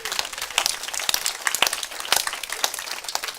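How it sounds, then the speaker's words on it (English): An audience in a church community space applauds, a dense, steady patter of many hands clapping at moderate loudness for the whole stretch. "we just got to give these guys a big round of applause for starting this place"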